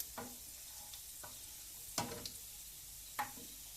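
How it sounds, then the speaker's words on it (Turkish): A wooden spoon stirring fried breakfast food in a pan, quiet sizzling with a handful of distinct scraping knocks spaced a second or so apart. "Evet ağaç kaşıkla karıştırıyor"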